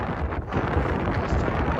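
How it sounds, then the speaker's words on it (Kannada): Strong wind on the Shivagange mountain peak buffets the microphone in low, rumbling gusts, loud and continuous over the short stretch. "ಎಂತ ಗಾಳಿ ಅಂದ್ರೆ ಮೊಬೈಲೇ ಬಿದ್ದೋಗೋ ಥರ ಇತ್ತು."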